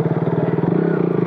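Close, throbbing motorcycle engine pulsing in a fast steady rhythm while the bike is ridden through muddy ground on a road trip to Gangtok, loud and continuous for a brief moment.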